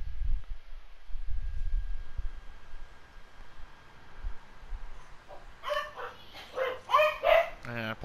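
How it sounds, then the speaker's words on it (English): Dogs bark in the background during a Grand Theft Auto: San Andreas gaming session. Several sharp, fairly close barks come in a cluster near the end, after low rumbling noises. "I apologize for the dogs in the background."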